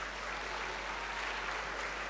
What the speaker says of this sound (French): Merci de les applaudir alors qu'ils viennent jusqu'ici.